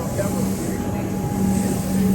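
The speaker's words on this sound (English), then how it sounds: "Get on the Comeng train for the last time." Comeng suburban train bound for Sunbury, heard from on board as a steady rolling rumble with a faint tonal hum and broadband hiss, continuous and fairly loud throughout.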